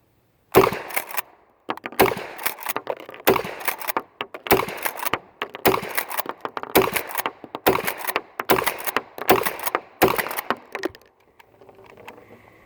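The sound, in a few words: shotgun firing mini shells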